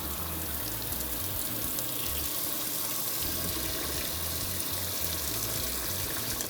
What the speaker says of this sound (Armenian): Մոտ 2-3 ջուր անընդհատ փոխում ենք, որպեսզի մեջի ամբողջ օսլայի պարունակությունը դուրս գա։